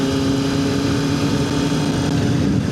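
A Ducati 996 motorcycle engine runs at a steady, loud, even idle throughout, a continuous throb with no speech over it.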